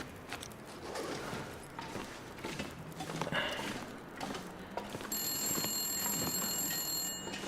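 A telephone rings in the video game The Long Dark: Wintermute with a high, steady electronic trill that starts partway through, over footsteps and background noise.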